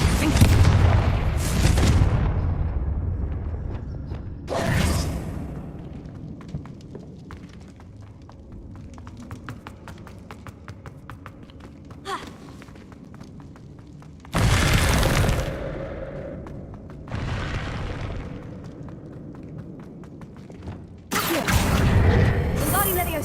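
Bombarda blasting spells explode in the video game Hogwarts Legacy: several loud, sharp booming bursts land at intervals, each with a crackling shatter and a debris tail, over continuous game ambience and music.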